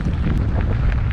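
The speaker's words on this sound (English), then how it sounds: "it's windy today up here" Strong wind buffets the microphone in a steady, rumbling roar with no voices.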